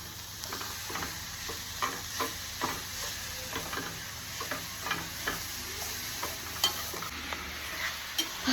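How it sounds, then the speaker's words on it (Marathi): A spoon scrapes and stirs a jaggery and coconut filling for ukadiche modak in a pan, giving steady, evenly spaced scraping strokes over a faint sizzle, close and fairly quiet, with no talking. "गुळाला एकदम मस्तपैकी जोपर्यंत ते त्याच्यात मिक्स होत नाही तोपर्यंत त्याला मिक्स करायला लागतं. आपण मिक्स करूया."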